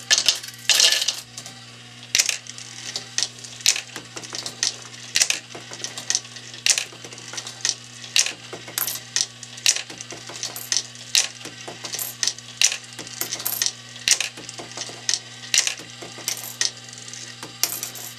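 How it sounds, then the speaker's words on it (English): Homemade penny sorter machine sorting pennies, a dense irregular stream of sharp metallic clicks and clinks as coins drop and separate, over a steady low motor hum, with no talking. "In order to get this machine to operate correctly on the threshold of being able to pass one penny without the other"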